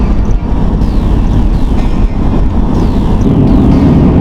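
A Ford Mustang engine runs flat out in third gear approaching 5,000 rpm, a loud continuous roar mixed with heavy wind and road rumble recorded from inside the car.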